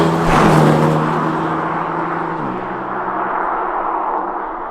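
Engine note from a BMW M3 F80 in speed yellow alongside a G80 on the open road, a loud steady drone with a dropping pitch as the car eases off, under rushing road and wind noise.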